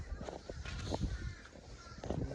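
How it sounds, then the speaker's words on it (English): A murder of crows surrounds the listener outdoors, with several loud, harsh caws repeating irregularly from nearby birds, some overlapping. "I'm in the murder of crows right now. They're all around me."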